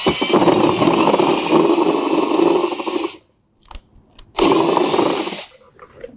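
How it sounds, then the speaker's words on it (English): A power drill with a 35 mm hole bit cuts through the plastic lower intake grille of a 2022 Ford Maverick, two loud whining bursts separated by a short pause with light clatter between them. "We're going to go ahead and drill that now."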